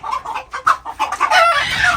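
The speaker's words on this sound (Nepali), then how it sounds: "समात्न गाह्रो हुन्छ नि कुखुरा त एकदम" A chicken being chased clucks in rapid, agitated bursts, close and loud, rising into a more continuous squawk toward the end.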